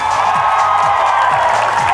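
Crowd cheering and applause for a singer at a televised live gala show, a dense steady roar of clapping and whoops filling the room, loud and continuous throughout.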